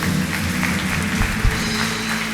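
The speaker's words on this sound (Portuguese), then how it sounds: "Uma salva de palmas para Jesus" A church congregation claps after a sermon, a dense and fairly loud patter that holds steady throughout, over a low hum from the sound system.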